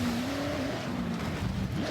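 Car racing engine in the Forza Horizon video game drones steadily throughout, a loud continuous tone with slight pitch rises and a rough, hissing wash over it.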